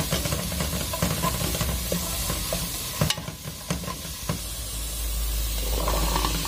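Leek and onion sauté in a pot, a soft continuous sizzle broken by scraping stirs and a few sharp knocks of a utensil against the pan.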